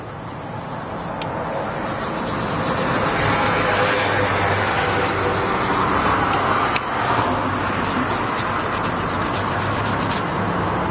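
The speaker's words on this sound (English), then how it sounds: "you could also use the wire brush again, if I find it. And tidy up your caliper a little bit" A wire brush scrubs brake dust off the rear brake caliper of a Peugeot 207, a loud continuous rasping rub sustained close-up for the whole stretch.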